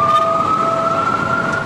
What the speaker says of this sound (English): Sirens echoed eerily in the distance